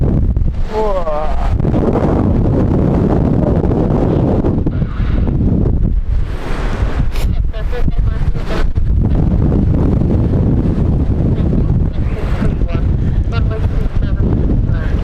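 Strong storm wind buffets a microphone at London City Airport, a continuous heavy roar with gusts, while someone talks over it throughout.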